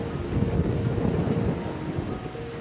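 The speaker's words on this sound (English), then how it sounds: "It is very windy today" Strong wind buffets the microphone while fishing from a boat in rough weather, a loud continuous low rumble and roar with no talk throughout.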